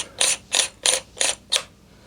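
A camera T adapter screwed onto a T-ring for a telescope, giving five quick, evenly spaced ratcheting clicks, close up and crisp with no talking.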